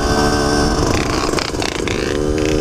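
Kawasaki KX 85 dirt bike held at a steady low-rev drone during wheelie training, loud and close with slight wavering in engine pitch.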